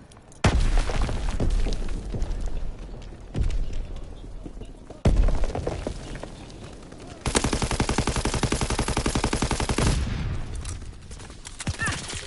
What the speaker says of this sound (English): Man, the explosion effects look really good.